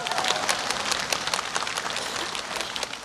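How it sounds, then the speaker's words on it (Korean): An audience at an outdoor evening concert in Duryu Park, Daegu, claps steadily in a dense, continuous wash of applause that holds for several seconds without a break. "달님에게 박수."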